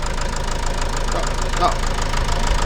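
Vauxhall Vivaro 2.0 van engine idling after an EGR and cooler delete, a steady mid-level running rumble with light knocking texture, heard up close with faint voice in the background.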